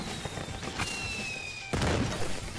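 In Sackboy: A Big Adventure, a level-end firework lets out a thin rising whistle and then a sudden crackling burst, fairly faint and brief.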